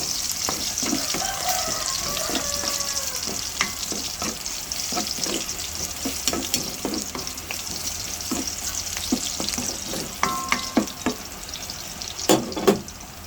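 Garlic frying in a pan already used for cooking eggplant, a continuous bright sizzle with scattered spoon scrapes and a few louder clinks near the end.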